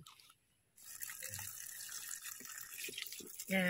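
Tap water running steadily while a plant pot is washed clean after emptying old soil, a continuous close splashing hiss that starts after a brief silence and grows louder and more splashy at the end.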